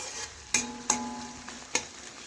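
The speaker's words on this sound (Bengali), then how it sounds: "আর এই দেখুন আবারও নাড়াচাড়া করে কিছুক্ষণ আমি রান্না করে নেব" Ridge gourd and potatoes cooking in a wok, a few sharp spatula clinks and scrapes against the pan over a soft background sizzle.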